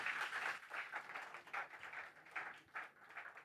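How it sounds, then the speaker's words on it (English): An audience at a Google Cloud India Summit conference claps for a few seconds, a dense, steady wash of applause at moderate distance. "So please give them another round of applause."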